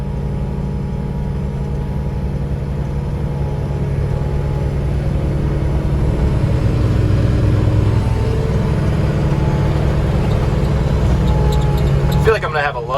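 A skid mower motor runs steadily and loud for the whole stretch, a constant low rumbling drone with a slight rise partway through and a brief clatter near the end.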